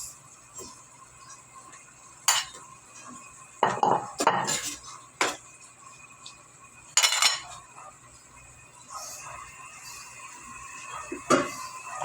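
Onion and tomato added to a hot pan of meat for a mixed-vegetable adobo, with repeated clinks and scrapes of a utensil against the pan in separate bursts over a soft background, no talking.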